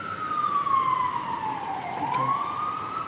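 A single wailing emergency vehicle siren sweeps down in pitch and then rises again, heard at moderate distance over a steady rumble of background traffic noise.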